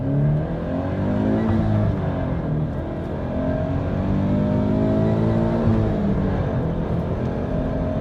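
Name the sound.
supercharged Toyota GT86 (FRS) accelerating hard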